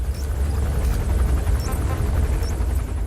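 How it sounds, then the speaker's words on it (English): Helicopter in the video game Metal Gear Solid V, a steady low rotor drone filling the short stretch with a constant broad rumble and no talking over it. "Now I've got a launcher to take out this helicopter."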